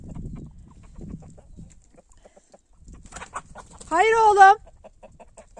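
A rooster lets out a loud, drawn-out cry after scattered soft clucking of chickens on a farm, with a brief human voice speaking early on.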